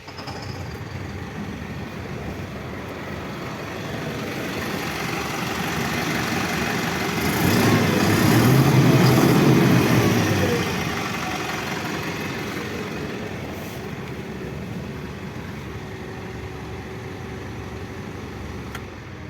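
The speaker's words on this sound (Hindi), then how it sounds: "अभी इंजन को स्टार्ट कर इंजन के साउंड सुनाएंगे।" A heavy diesel engine of an Ashok Leyland 2825TN BS6 ten-wheeler truck with rock body idles with a steady low rumble, swelling louder for a few seconds midway before settling back.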